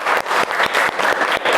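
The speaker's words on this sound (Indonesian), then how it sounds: "Aplaus untuk kelompok 1" A classroom of junior high students clapping for a student group after its presentation, a steady dense patter of many hands with brief dips, loud and close throughout.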